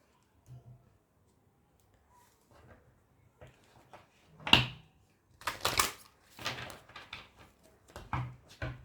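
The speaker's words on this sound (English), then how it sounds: "let me just pull some oracle cards for you" Oracle cards shuffled and pulled from an Angel Answers deck: a run of soft riffling and brushing bursts with a few sharp card snaps, close and fairly quiet, with no talking.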